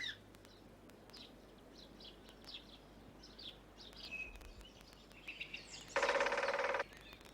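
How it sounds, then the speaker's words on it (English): A great spotted woodpecker gives one rapid drumming burst, a loud, tight roll lasting under a second near the end. Scattered high chirps of garden birds come before it against a quiet background. "It's the drumming of the great spotted woodpecker."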